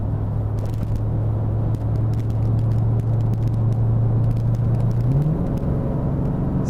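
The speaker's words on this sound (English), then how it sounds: "I'm going to press on the throttle slowly and see at what percentage it actually downshifts" A Corvette engine drones at a low steady rumble under slowly increasing throttle, then its pitch sweeps upward near the end as the transmission downshifts with the stock servo, heard close and continuous without speech.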